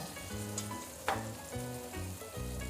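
Carrot, capsicum and beans sizzle steadily in a pan for vegetable biryani, with a soft continuous frying hiss and a brief stirring scrape, while background music plays.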